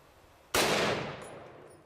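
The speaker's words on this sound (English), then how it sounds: "Here we go, 300 Win Mag versus the lock." A single sharp, loud 300 Win Mag rifle shot strikes a lock at close range, a sudden crack whose ringing decay fades over about a second.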